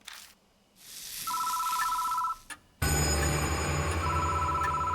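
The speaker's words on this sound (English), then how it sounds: "The phone is ringing." A telephone ring sounds in the horror game Spirit Hunter: Death Mark, one steady electronic burst over soft ambience, then a loud dense noisy music-like sound cuts in, with a faint repeat of the ring beneath it.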